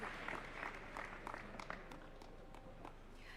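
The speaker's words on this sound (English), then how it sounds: "A better round of applause, please, for them." An audience applauds a panel at a national conversation event, with faint, scattered claps and a soft crowd murmur heard at a distance and fairly quiet throughout.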